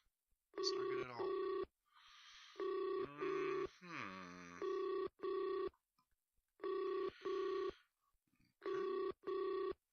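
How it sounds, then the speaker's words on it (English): A telephone rings in The Behavioralist video game, sounding as a series of loud, evenly spaced electronic tone bursts with short gaps between them. A brief warbling, moaning sound cuts in partway through. "That's a new phone call, and I have no idea where it's ringing from."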